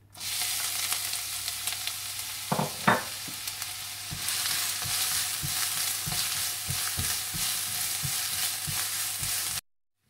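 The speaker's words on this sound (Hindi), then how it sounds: "सबसे पहले आप तेल डाल लें, इसमें आप प्याज डाल दें और प्याज को आप हल्का सा ब्राउन कर लें" Steady sizzling of onions browning in hot oil, with a few stirring clinks and scrapes of a utensil against the pan, close up.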